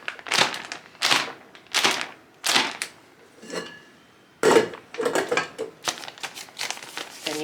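A filled Twinkie pan is tapped down on a counter in a run of loud, sharp knocks, several in quick succession with short pauses, close and alone with no talk.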